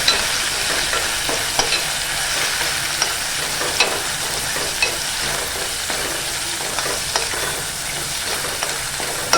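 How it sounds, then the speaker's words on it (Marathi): Ginger garlic paste with curry leaves sautéing in hot oil for a Malvani raw banana bhaji, a loud continuous sizzle with frequent scraping stirs close up. "आलं लसूणची ते थोडी ना अशी तेलावरती परतून घ्यायची आहे"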